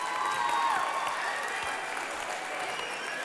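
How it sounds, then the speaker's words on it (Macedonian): A live television talent show audience applauds steadily, with dense sustained clapping and some crowd noise throughout. "Аплауз."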